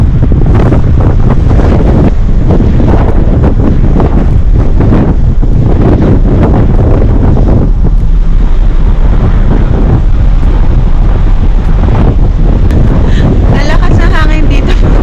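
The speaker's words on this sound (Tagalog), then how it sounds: "Lalakas na hangin dito, mga ka-GG." Strong wind buffets the microphone on the sun deck of a ship, a loud continuous roar with low rumble throughout, a voice speaking over it at times.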